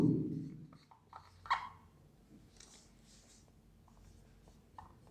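Pen or marker writing on a board during a Hindi-language math lecture on mathematical induction, a faint scratchy stroke sequence after a brief low thump, fairly close and with no talk over it.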